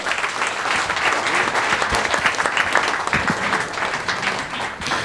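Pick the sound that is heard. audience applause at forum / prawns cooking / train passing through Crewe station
audience applause at forum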